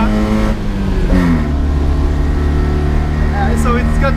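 A 1980 Mitsubishi Minica's 550cc four-stroke engine runs loud and steady close by, a buzzing harmonic drone with a small rev rise just past the first second, then a few squeaky chirps late on.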